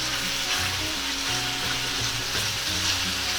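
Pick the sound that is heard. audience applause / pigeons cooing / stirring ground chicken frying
stirring ground chicken frying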